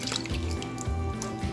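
Coconut milk poured into a cake mixture for a cassava cake, a short, close liquid stream with soft dripping and glugging at moderate volume, no talking.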